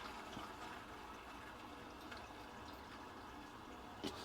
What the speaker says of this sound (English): let the toilet fill